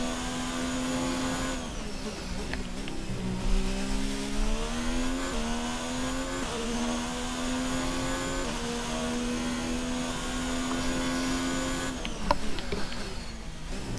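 A Formula 1 car engine in F1 2019 screams continuously at close range, its pitch dipping and climbing through several gear changes and rising revs, loud and alone without any voices.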